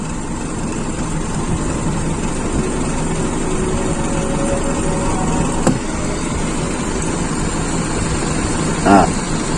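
A Toyota Kijang Super engine idles at close range with a steady rumbling hum, engine speed climbing slightly while the car sits still, plus a brief click and a faint thump near the end.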